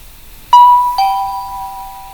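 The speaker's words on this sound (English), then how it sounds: "2 donuts ring the bell." A two-note ding-dong doorbell at a house's front door, rung once, with two clear bright tones ringing out and slowly fading in a quiet room.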